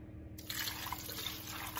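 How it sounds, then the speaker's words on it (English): Water poured into a pot of meat and chicken on the stove while making Nigerian edikang ikong soup, a steady splashing trickle starting abruptly and running close and continuous. "And then I'm gonna add some water."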